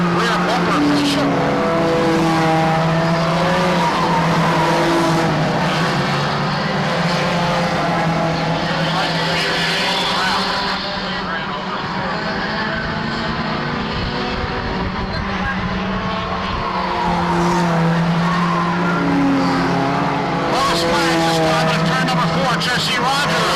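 A pack of race cars, including a pair of Honda CRXs, roars around a speedway, engines droning and rising and falling continuously as they pass, with a race announcer talking over the noise.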